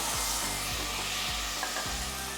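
Potatoes and carrots sizzling in a pan with cashews for veg pulao, a steady hiss of frying with regular soft stirring scrapes, fairly quiet and close.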